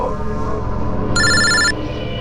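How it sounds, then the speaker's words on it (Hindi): A telephone rings unanswered in a burst of bright electronic trilling lasting about half a second, heard loud and close over a background murmur of room noise. "कोई फोन क्यों नहीं उठाता? फोन उठा लो।"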